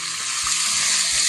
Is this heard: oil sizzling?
yes